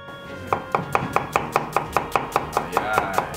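An onion is chopped with a very sharp kitchen knife on a cutting board, about fourteen crisp, evenly spaced knocks in a quick steady rhythm, close and clear with no speech.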